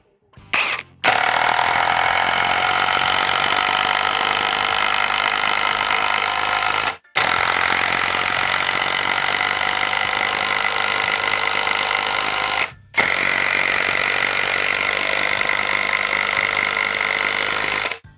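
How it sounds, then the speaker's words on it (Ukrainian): A Procraft IW550A cordless impact wrench drives lag screws in three long bursts of loud, rapid rattling hammering, each lasting several seconds with brief pauses between, close and with no talk. "ми закрутимо ці глухарі повністю на звичайному режимі"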